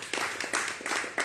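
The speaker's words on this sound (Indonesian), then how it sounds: "Tepuk tangan." An audience claps at a religious lecture in Indonesian, a few short bursts of applause rising and falling in quick succession.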